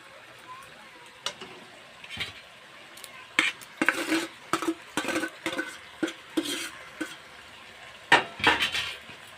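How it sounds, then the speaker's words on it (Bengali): Potatoes tipped into a pan of pea shoots, with metal spatula clinks and scraping strokes over a soft sizzle; irregular clattering bursts, close and fairly loud, with no talk. "এবার আলুগুলো দিয়ে দিচ্ছি"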